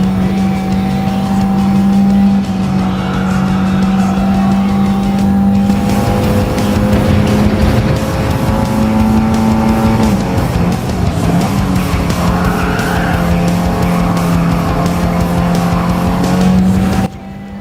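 Race car lapping a track in Gran Turismo 7, its engine droning loud and steady close up, the pitch rising and falling with gear changes and faint tire noise, continuous throughout.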